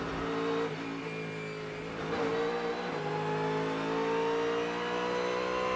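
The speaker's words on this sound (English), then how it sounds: "as Priaulx tries to make his way past, but the Corvette is better on the brakes and hangs around the outside to hold on to 5th position" Ford Mustang and Corvette GTD Pro race cars battle on the Indianapolis track in an IMSA race, their engines roaring loud and close, rising and falling in pitch as they rev and shift.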